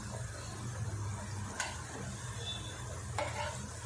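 Wheat flour snacks fry in oil over a medium flame with a soft, even sizzle, broken by two sharp scraping clicks of stirring spaced a second or so apart.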